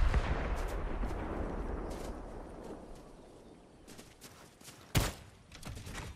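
Gunfire in Fortnite, a booming blast at the start fading into a rumbling tail, then scattered sharper shots, one louder crack standing out, all fairly loud with no talk.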